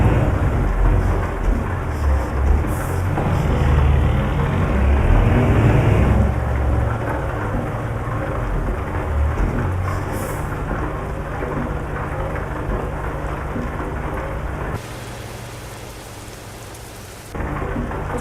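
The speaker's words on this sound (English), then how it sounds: "it's been raining for some time on the game now" Steady heavy rain and rolling thunder fill a thunderstorm in Euro Truck Simulator 2, a trucking game. The downpour is dense and continuous, with deep rumbles throughout and a brief dip in level near the end.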